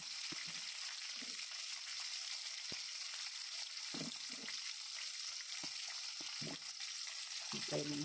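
Onion and garlic sautéing in a pan for adobo, a continuous bright sizzle broken by a few soft knocks and stirs of a ladle, close and alone.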